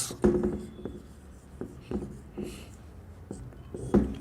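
Chalk or marker writing on a classroom board during a spoken English lesson, with short scratchy strokes and taps in an irregular rhythm, close and moderately loud, without talk over it.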